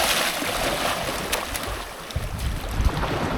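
Water splashes and washes continuously along a remote beach, a loud, steady rush of surf with wind buffeting the microphone and a few sharper splashes near the end.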